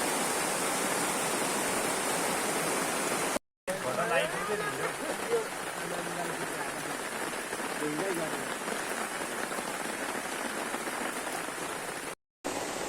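A village irrigation stream rushes steadily in a constant broadband wash of flowing water, close and even throughout, with faint voices in the background.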